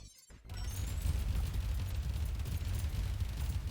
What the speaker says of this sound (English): Okay, there was quite a lot of explosions in this one.